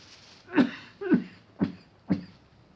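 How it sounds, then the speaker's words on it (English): A person coughs four times in a row, each cough a short, fairly close burst with brief pauses between them. "I don't think this cough's going to go away anytime soon"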